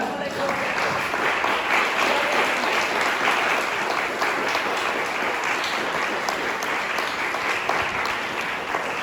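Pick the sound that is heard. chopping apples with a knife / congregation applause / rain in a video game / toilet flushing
congregation applause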